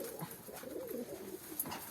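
A pigeon coos softly in low, rolling murmurs, faint against a quiet background.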